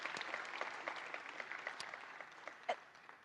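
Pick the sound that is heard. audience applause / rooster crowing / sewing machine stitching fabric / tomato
audience applause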